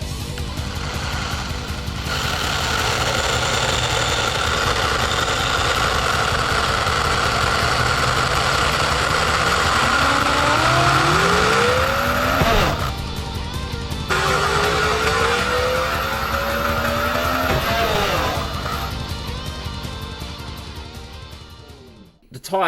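A Tamiya TT02 RC car on a high-speed test run whines loudly at full throttle, the motor pitch sweeping upward in bursts, broken by abrupt cutoffs, with voices audible and the noise fading out near the end.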